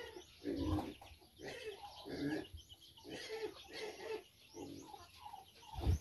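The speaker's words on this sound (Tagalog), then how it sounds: "Yung ibang mga manok dyan." Chickens in a newly finished backyard coop give short, intermittent bursts of clucking and calls, fairly quiet and close by, with gaps between each burst.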